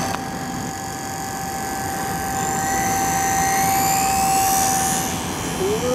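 A Hobbyzone SuperCub RC model plane on its maiden flight, its electric motor whining steadily overhead at moderate distance, holding a continuous tone that swells slightly midway and fades near the end.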